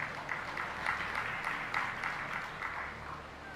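Audience clapping at a spiritual discourse gathering, a soft, distant, continuous patter of many hands sustained throughout without voices.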